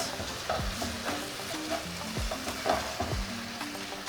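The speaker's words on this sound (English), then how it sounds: "I'm going to fry it" Capsicum, or bell pepper, fries in a sauce in a pan for Gizdodo, giving a steady close sizzle with periodic scraping stir strokes throughout and no talking.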